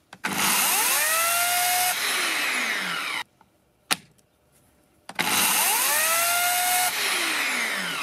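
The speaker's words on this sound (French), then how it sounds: "faites tourner la chaîne à vide afin que l'huile se répartisse correctement sur la chaîne" Parkside PKS 2200 A1 electric chainsaw running with no load, a loud close whine that spins up and winds down twice, with a quiet pause and a single click between the runs.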